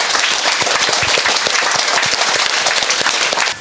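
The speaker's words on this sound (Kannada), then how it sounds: "ಅವ್ರಿಗೂ ಕೂಡ ಒಂದು ಚಪ್ಪಾಳೆ ಮುಖಾಂತರ ನಿಮ್ಮ ಗ್ರ್ಯಾಟಿಟ್ಯೂಡ್ನ ತಿಳಿಸಿ" Audience applause at an opening ceremony of a meditation center in Bangalore, steady dense clapping from many hands, loud and continuous throughout with no voices over it.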